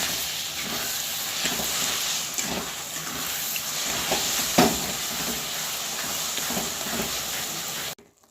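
Sago melting with a little food colour is stirred in a hot pan, a steady close hiss and bubbling sizzle with faint scraping strokes running unbroken for several seconds, then cutting off abruptly; no voices.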